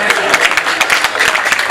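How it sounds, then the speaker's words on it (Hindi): A crowd at a kavi sammelan poetry event in Shahjahanpur gives brief, loose applause. The claps are close, irregular and steady, with murmuring voices underneath. "पीछे के लोग भी तालियां बजाएं अगर आपके हाथ अन्य किसी काम में व्यस्त ना हो।"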